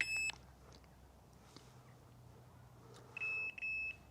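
A Rippton Bitekeeper Cube bite alarm sounds a custom pure echo tone: a short steady high beep at the start, then two more clipped beeps near the end, all close and clear over a quiet room.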